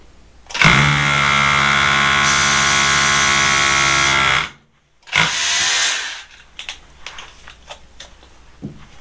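Hilti rotary hammer drilling with a quarter-inch bit gives a loud, close, buzzing hammering whine for about four seconds. A brief pause follows, then a shorter burst, then scattered knocks and clatter.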